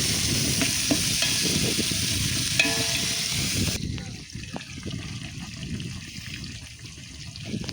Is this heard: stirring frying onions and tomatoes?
yes